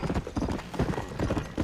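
Horse hooves in Red Dead Redemption clip-clop in a quick, steady rhythm, close and fairly loud throughout this short stretch, with no talk over them.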